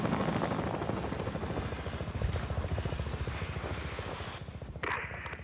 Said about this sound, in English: Hey, look! That's our chopper!